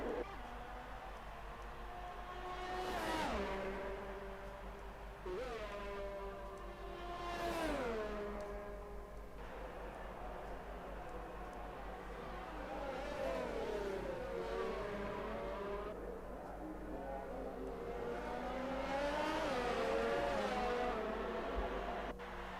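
An F1 race car screams through a qualifying lap at the Mexican GP in a racing video game, engine pitch repeatedly climbing through the gears and dropping on downshifts, steady and loud, with no voices.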